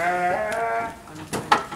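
Sheep bleat in a pen at a livestock farm, with a loud, close, wavering bleat at the start followed by a couple of shorter calls and rustling.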